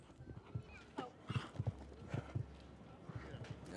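A mare's hooves clip-clop in a steady, rhythmic gallop during a show jumping round at the AIG Million competition, the thuds fairly close, with a commentator's voice faintly underneath.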